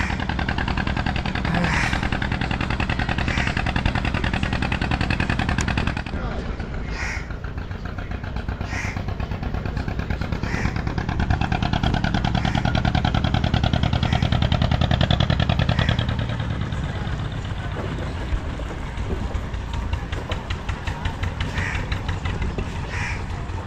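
A ferry launch arrives at Matiari ferry ghat on the Ganga, its engine a loud, steady drone throughout that swells midway, with crows cawing repeatedly nearby.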